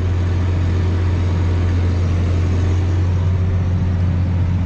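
A Massey Ferguson 8480 tractor pulling a manure spreader drones along at a steady cruise-control speed, its low engine hum constant and loud throughout.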